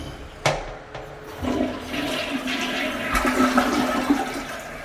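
A toilet flushes during a rental move-in inspection, with a sharp handle click, then a steady rushing, gurgling swirl of water that builds and keeps draining to the end.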